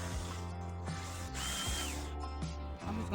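A power drill drives screws into a bike camper build, whirring loudly and continuously close up with brief dips and restarts between bursts, no talk.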